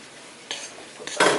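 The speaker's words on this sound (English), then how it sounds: "now use this and stir it all in" Granola bite mixture of peanut butter and raisins being stirred with a utensil, giving brief scraping and clinking bursts that grow louder toward the end, with no talk.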